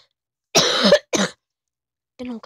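Two loud, harsh coughs close together, followed by a shorter rougher burst after a pause, close to the mic.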